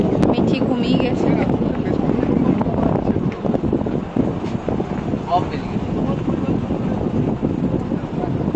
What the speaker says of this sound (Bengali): নৌকা